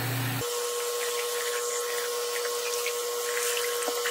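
Warm water runs from a tap over a hat being soaked, a steady rushing hiss with a constant tonal hum, loud and close, with no talking.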